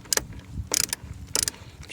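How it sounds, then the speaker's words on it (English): A ratchet with a 10mm socket is loosening the battery terminal on a 2011 Toyota Camry. It gives three quick bursts of close, rapid metallic clicking, with short pauses between strokes. "So this is a 10mm socket. I'm going to go ahead and loosen this up."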